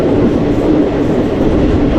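A train on the Katwa to Ahmadpur line runs on through green countryside, a loud steady rumble heard from on board with a low rolling clatter and no break.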